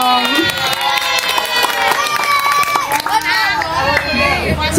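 A crowd of schoolchildren at a student council leadership training event cheers and shouts loudly, with many high voices overlapping in a dense, continuous roar for about five seconds.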